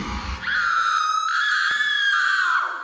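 A woman lets out a long, loud, piercing scream in a horror story setting, sustained for over two seconds and heard alone without talk.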